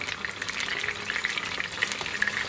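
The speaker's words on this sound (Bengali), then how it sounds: "ফ্রাই প্যানে তেল দিয়ে মাছগুলো ভেজে নেব" Hilsa fish pieces fry in hot oil in a frying pan, giving a continuous close crackling sizzle with small sharp pops, steady and moderately loud, with no voices.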